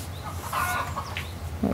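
Chickens cluck among the ruins of a burned-down house, steady close clucking over a low background rumble, with no talk.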